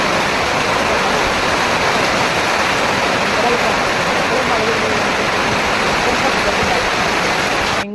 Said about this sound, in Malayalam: ഭയങ്കര ശബ്ദത്തോട് കൂടിയിട്ട് മഴ പെയ്യുണ്ടായിരുന്നു